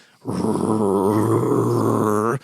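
A voice imitates a low, steady dog-like growl, a single sustained rumbling tone held for about two seconds, loud and close, describing the growl of hellhound-like dogs.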